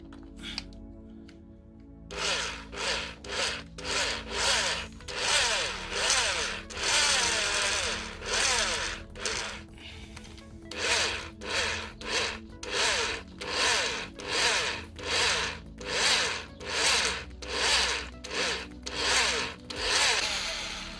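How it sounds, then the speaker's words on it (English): A lubricated drill bit grinds into a broken metal bolt in a long series of short, rhythmic bursts, each buzz starting and stopping with brief pauses between. "What I'm trying to do is I'm trying to prevent this drill bit getting too hot."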